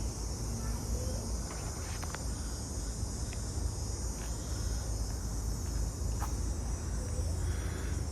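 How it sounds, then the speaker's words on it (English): Cicadas buzz steadily in trees along a nature trail, a continuous high shrill drone carrying over outdoor ambience, with faint footsteps and a little talking. "You can hear the cicadas in the trees."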